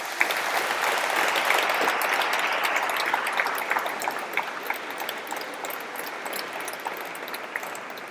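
A church congregation applauds Don Corrado at a confirmation Mass, steady dense clapping filling the hall throughout and easing slightly toward the end.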